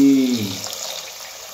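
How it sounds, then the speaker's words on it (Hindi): Water poured into a pan while fish is being cooked with spices, a short splashing pour at the start fading to a quieter trickle, close and alone without speech. "पानी"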